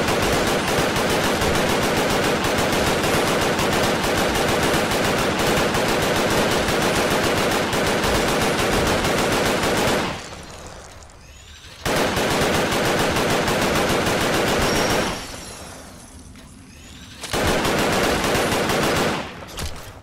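Automatic gunfire blasts from the Fallout 4 video game in long, dense, loud bursts, broken by two short pauses before the firing starts again.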